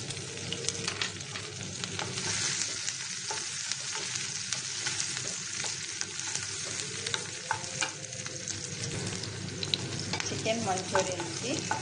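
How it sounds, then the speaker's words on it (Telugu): Garlic, finely cut ginger and green chilli pieces frying in hot oil, a steady loud sizzle that runs without a break, with occasional stirring scrapes and no talk. "పచ్చిమిరపకాయ ముక్కలు వేసుకొని వేయించుకోవాలి."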